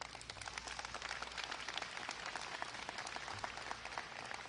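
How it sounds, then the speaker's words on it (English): Steady audience applause at a facility dedication event with the Illinois governor, dense, continuous clapping held at an even, moderately quiet level for the whole stretch, with no speech over it. "So round of applause for this beautiful"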